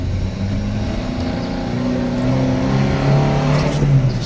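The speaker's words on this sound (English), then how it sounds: "So when I floored it there, it went into boost." A supercharged Subaru Sambar engine pulls hard under full throttle, a steady droning tone that rises and thickens as it builds into boost, heard from inside the vehicle with no talk.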